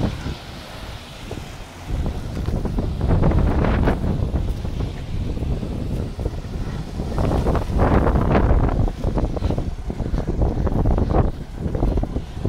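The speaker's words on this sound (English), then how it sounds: "just get a little bit more footage of the wind" Steady wind buffeting the microphone beside small home wind turbines, an iSta Breeze i1500 and a Heli 2.0, in Missouri, with a continuous loud rushing roar that swells and dips through the whole stretch and no talking.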